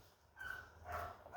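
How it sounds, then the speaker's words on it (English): A neighbour's dog barks down a hallway, giving two short, faint, muffled barks from some distance away. "the dog is barking down the corridor quite loudly while I'm doing this video"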